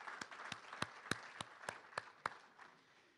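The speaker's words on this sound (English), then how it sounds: "let's give them a round of applause and make them welcome" Audience applause at a centennial press event near a historic railway depot, heard as a short burst of separate claps, fairly faint and sparse, tapering off after about three seconds.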